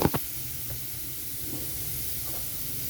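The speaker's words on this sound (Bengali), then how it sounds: "এখানে কড়াই বসিয়েছি, কড়াইটা গরম হয়ে গেছে। তো এখানে আমি দিয়ে দিচ্ছি পুরানো নারকেল" Old grated coconut hitting a hot wok, giving a steady low sizzle and hiss after a couple of sharp clatters at the start.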